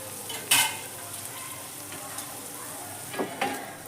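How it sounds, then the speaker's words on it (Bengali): Vegetables coated with turmeric frying in a pan, a continuous close sizzle broken by a few sharp scrapes and knocks as they are stirred, no voices. "এই সবজিটাকে আমি খুব ভালো করে ভেজে নেবো"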